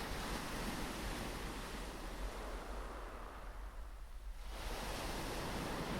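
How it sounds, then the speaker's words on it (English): Sea water washing over harbour shingle as the tide comes in, a soft, broad surf hiss that thins briefly and then surges back, faint and steady. "You hear the water pulling at the shingle"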